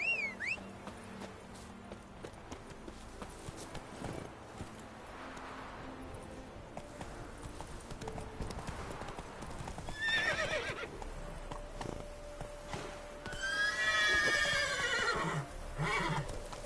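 A horse in The Witcher 3 video game walks with a steady clip-clop of hooves and gives two loud, shrill whinnies near the end, with no talking.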